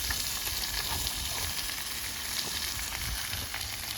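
Peppers and pork loin steaks sizzle steadily on a barbecue grill for a Chinese-style platter, a dense continuous hiss with faint crackles, close and unbroken throughout.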